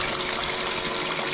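Water rushes and sloshes steadily inside a C C cooler used for a turbo VK Commodore intercooler setup, a close, dense, continuous wash with no talk.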